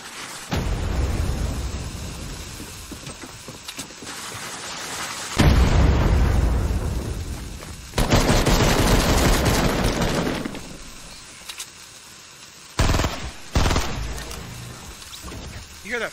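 Bursts of gunfire and explosive booms in Fortnite Battle Royale come in loud, separated waves with quieter stretches between them, including sharp short hits near the end.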